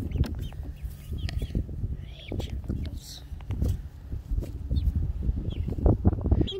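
A speckled Sussex rooster clucks repeatedly in short, irregular bursts close to the microphone, mixed with footsteps and people talking over it.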